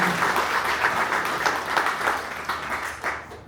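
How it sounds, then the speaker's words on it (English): An audience at a Bronx Week sponsors appreciation event gives a steady, moderately loud round of applause for Bob Abrams, with dense clapping continuing for a few seconds before tapering. "One more round of applause for Bob Abrams."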